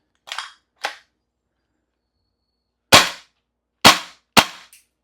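A CO2-powered BB gun fires five times at uneven intervals, two softer snaps followed by three louder, sharper cracks, each short and close with quick decay and silence between.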